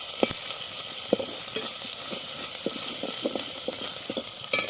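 Ginger paste sizzles steadily in hot oil in a pan for Bengali aloo dum, with repeated scraping and stirring clicks over the constant frying hiss.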